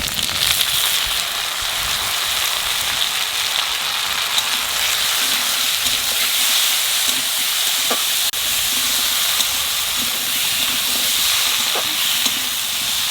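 Fresh field taro frying in a pan, a continuous even sizzle like steady hissing steam, with a few faint clicks over the constant crackle.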